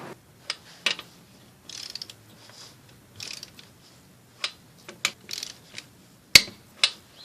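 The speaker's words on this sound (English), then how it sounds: "how it works is once you get to that torque, the 100 foot-pounds, it'll click." A torque wrench tightening a car tire's lug nuts to 100 foot-pounds, giving a series of sharp isolated mechanical clicks and ratchet ticks spread irregularly over several seconds, close and fairly quiet.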